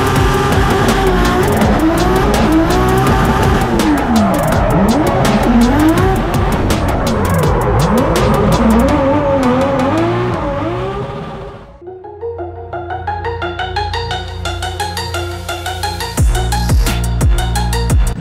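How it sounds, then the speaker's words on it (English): A diesel-powered drift car at a Formula Drift event in Long Beach roars loudly with wavering revs and tire squeal, then drops away briefly before screeching tires and revving return. "So we skipped lunch to shoot Dylan's diesel drift car."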